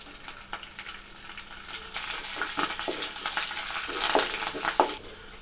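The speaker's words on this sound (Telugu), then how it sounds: "ఇందులోనే కొంచెం కరివేపాకును కూడా వేసి వేయించుకోవాలి" Oil sizzles and crackles steadily as spices and curry leaves fry for a mint-tomato chutney, growing louder midway with stirring scrapes and pops, no voices.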